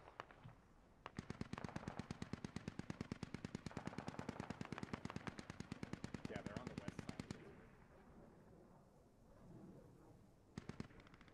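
Sustained automatic gunfire in the video game SquadOps, a long rapid burst of rounds followed by quieter background noise and a short final burst, with voices heard faintly beneath.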